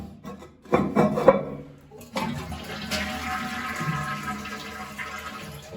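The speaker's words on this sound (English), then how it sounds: "So I'm gonna flush the toilet." A toilet with a newly fixed flapper chain is flushed, giving a short rattle of the handle, then a rushing flush and a steady hiss of the tank refilling close by.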